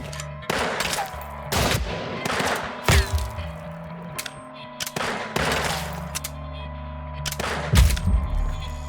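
Several separate loud gunshot bursts in the western game Weird West, spaced a second or two apart over a quiet ambient background, each with a sharp crack and short decay.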